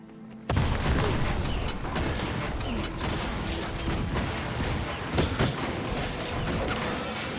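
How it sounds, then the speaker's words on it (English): An Asura engineer's turret in Guild Wars 2 opens fire suddenly, unleashing a dense, continuous mechanical rattle of rapid shots that keeps going without a break for several seconds. "Again, let's just drop a normal turret."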